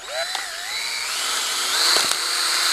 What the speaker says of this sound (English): Drill a hole right through the top of the bottle.